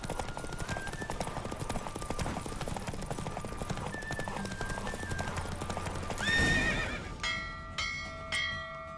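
Rapid galloping hoofbeats of a horse in The Witcher 3 pound steadily for several seconds, then give way to a horse's whinny and a few ringing bell tones near the end.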